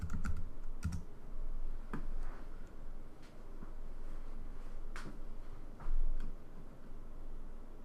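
A folder name is typed on a computer keyboard: scattered, soft keystroke clicks come in short, irregular bursts over a quiet room background.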